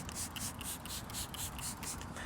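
A rapid series of trigger-spray squirts of glass cleaner onto dirty glass, close and hissy, repeating about eight times in quick rhythm with no talking.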